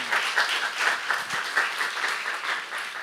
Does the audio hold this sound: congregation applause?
yes